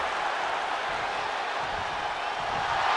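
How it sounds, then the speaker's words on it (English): Steady roar of a cheering arena crowd in the WWE 2K23 wrestling video game, a constant wash of noise at moderate level with no clear peaks. "The sound of this crowd is deafening, and he's asking for more"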